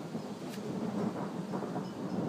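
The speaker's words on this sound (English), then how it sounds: "That's thunder. We're outside." Low rumbling thunder rolls continuously during an outdoor storm, a deep steady roar with faint rain hiss underneath and no speech.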